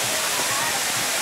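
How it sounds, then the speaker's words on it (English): Waterfall splashing into the Mirage hotel pool in Las Vegas, a steady broadband rush of falling water, close and continuous, with faint crowd chatter mixed in. "Another waterfalls, as you can see."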